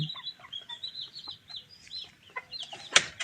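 A four-month-old Bangkok chicken clucks in a backyard poultry pen at a city house, giving a steady run of near, mid-loud calls and squawks with a sharper outburst near the end.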